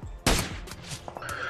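Gunfire exchange in the video game PUBG Mobile: a loud, sharp burst of shots followed by a few fainter scattered reports, close and punchy.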